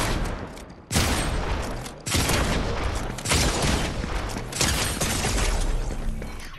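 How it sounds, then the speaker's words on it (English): Video game Havoc shotgun blasts in OG Gun Game, three or four heavy booming shots spaced about a second apart, each with a long rumbling tail, close and loud with no talking. "The Havoc shotgun."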